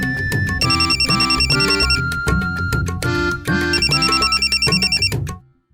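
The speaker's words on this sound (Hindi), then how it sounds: "फोन की घंटी बज रही है।" A telephone rings in repeated electronic trills, bright and loud, continuing in steady bursts before cutting off abruptly at the end.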